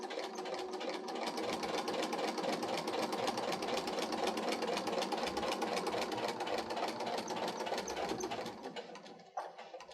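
A sewing machine runs steadily through a water-resistant picnic blanket, its rapid even needle chatter lasting around nine seconds before slowing and stopping near the end, close and clear with no speech.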